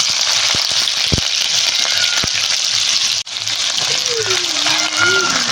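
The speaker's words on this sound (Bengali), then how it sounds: "কড়াইয়ে সাদা তেল দিয়ে দিচ্ছি সাদা তেল দিয়েই রান্নাটা করব ফোড়নে দেবো পাঁচ ফোড়ন আদা কুচি আর কাঁচা লঙ্কা কুচি" Panch phoron, chopped ginger and green chili fry in white oil in a kadai, a loud dense hiss close up with a few sharp taps early on and a brief dip before the sizzle resumes.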